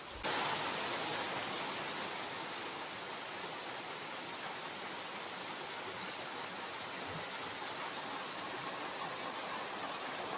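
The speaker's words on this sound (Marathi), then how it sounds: "हे पाणी डायरेक्ट डोंगरातून येते आणि खूप प्रेशरने पाणी येत आहे" Dense, steady roar of mountain water falling under strong pressure onto a temple at Dhareshwar in Maharashtra, a continuous close hiss with no pauses.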